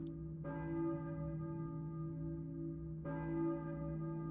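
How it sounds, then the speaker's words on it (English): Church bell tolling in the video game Silent Hill, Midwich Elementary School area: two clear, resonant strikes about two and a half seconds apart, each ringing on with a sustained humming decay, fairly quiet with no voices. "I hear a church bell, maybe. Who is ringing the bell?"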